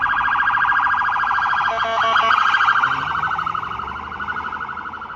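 A toy police car's siren wails continuously and loudly nearby, its rising and falling electronic tone running with no speech over it.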